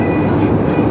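A long freight train made up mostly of flat cars rolls past on the railway near the Grand Canyon, giving a loud, steady, close rumble with a faint high whine and no pauses.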